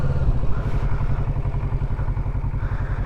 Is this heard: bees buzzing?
no